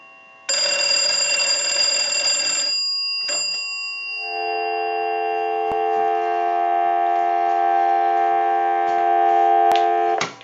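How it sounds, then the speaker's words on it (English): Steady telephone tones through an amplified pickup on a repaired Western Electric 317 wooden wall crank telephone, with a bright tone that cuts off, brief clicks, then a long continuous lower dial tone until a final click. "I'll let it go one more time and we'll give you some dial tone."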